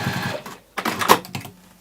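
A sewing machine stitching a sausage-dog appliqué onto fabric: two short, close mechanical runs of rapid stitching with a brief pause between them.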